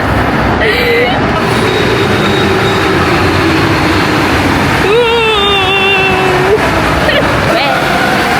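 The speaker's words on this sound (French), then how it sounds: "Là, on est dans le métro 14." Steady rumble of a Paris Métro line 14 train in motion near Bercy, with rising and falling whine of electric motors as it accelerates and slows, voices faintly audible throughout.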